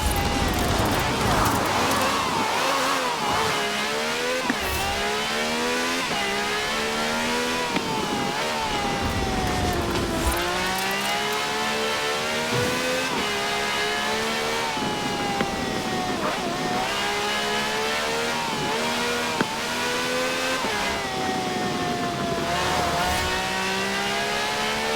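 A V12 cab with over 750 horsepower in the racing game Forza Horizon 4 revs loudly and steadily, its engine pitch climbing and dropping in repeated sweeps throughout.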